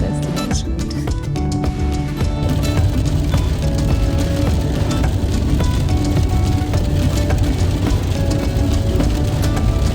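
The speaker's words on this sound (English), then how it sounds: "after many hours of driving in the rain" Steady, loud rain and road noise hiss and rumble inside a car driving through wet weather across Spain, continuous and dense for the whole stretch.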